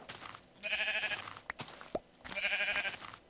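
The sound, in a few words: sheep bleating in Minecraft video game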